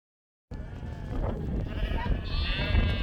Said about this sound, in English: we see a batch of about 4 sheep well off the path we're going down